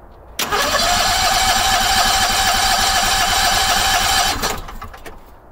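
The engine of a Howard Price Maverick 620 mower cranks on its starter, a loud, steady whirring drone lasting about four seconds before cutting off. The sound is close and has no voices over it.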